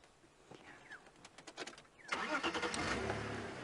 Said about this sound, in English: I think if I start my engine now, they're going to get a bit of a fright.